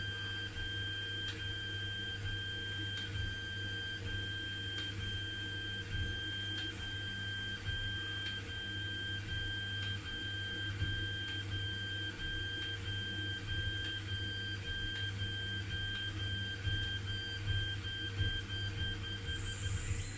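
An Alfawise U20 3D printer running without its cooling fan hums steadily with tonal stepper-motor whine and faint mechanical ticking, continuous and close, no fan noise or voices.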